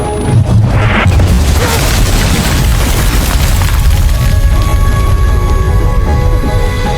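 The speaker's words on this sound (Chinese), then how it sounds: "就在他走近的时候，爆炸发生了" A loud, deep explosion tears through a house in a fantasy horror TV series, a broad blast that rumbles on and fills the whole stretch with heavy, continuous noise.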